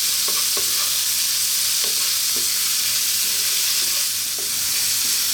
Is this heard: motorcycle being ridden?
no